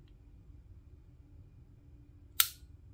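Dry-firing the trigger of a PSA Dagger pistol to check its reset gives a single sharp, close mechanical click against a quiet room hum.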